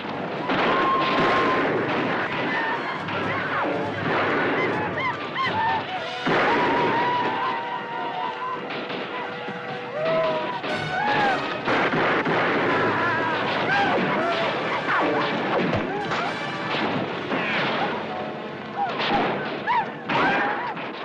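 Rifle fire in an Old West town: a dense, continuous barrage of loud shots and echoing reports, with shouting voices mixed through the din.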